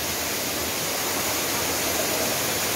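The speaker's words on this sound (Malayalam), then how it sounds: "ഇത്രയും ഹൈറ്റിൽ നിന്നാണ് ആ വെള്ളം വീഴുന്നത്." Water drops about 30 feet down the rock at Chelikuzhy waterfall in Konni, making a loud, continuous roar that holds steady throughout with no voices.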